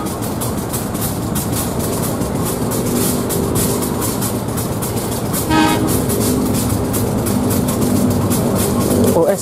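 The Sri Tanjung passenger train passes close by at a small station, a loud rolling rumble with rhythmic wheel clatter. A short horn blast comes midway, and the sound stays dense and continuous throughout.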